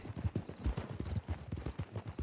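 Rapid hoofbeats of a horse in the video game RedM pound in a fast, steady galloping rhythm, close and fairly loud, with no talking over them.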